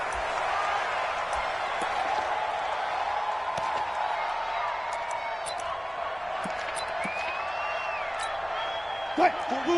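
Stadium crowd roar in an NFL video game before an Arizona Cardinals versus Philadelphia Eagles matchup, a constant wash of cheering and whooping with a loud commentator voice talking over it and a few sharp calls near the end.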